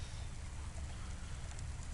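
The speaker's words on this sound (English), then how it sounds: "Listen to the rain." Steady rain in the cyberpunk city game Cloudpunk, a constant soft hiss of falling water with a low rumbling bed, even and unbroken, heard alone without voices.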